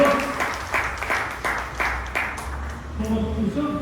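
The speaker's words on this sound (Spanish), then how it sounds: "Denle un aplauso al Señor." A church congregation applauds briefly in sharp, fairly rhythmic claps that fade into a low murmur, and a voice speaks over the tail end.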